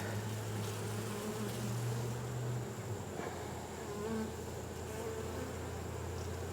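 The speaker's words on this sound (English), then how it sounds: "Man, they are bringing in the honey." Honey bees hum around an open hive, with a continuous dense buzz that swells and fades slightly as individual insects pass near, and no speech.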